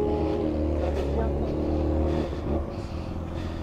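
A Kawasaki ZX6R sport motorcycle runs with a steady, tonal engine drone close by, its cracked oil cap noted, with a slight swell and settling in pitch and voices faintly present.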